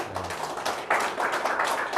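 Audience applause for Abang Bakar Komando at a Reformasi political launch rally in Johor, a steady crackle of clapping from a crowd that swells louder about halfway through and holds.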